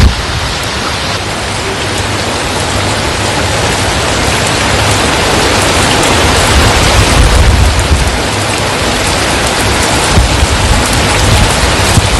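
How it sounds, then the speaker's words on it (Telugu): Heavy rain pouring down in Hyderabad, a loud, dense, unbroken roar of rainfall that lasts throughout with no voices. "మొత్తంగా తెలంగాణ వ్యాప్తంగా వర్షాలైతే దంచికొడుతున్నాయి"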